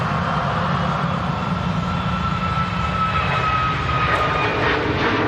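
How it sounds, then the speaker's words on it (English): A Ryanair airliner on its takeoff roll at Manchester Airport, a loud continuous jet engine roar with a steady rumble and a thin rising whine, no talk over it. "Ryanair on the takeoff roll."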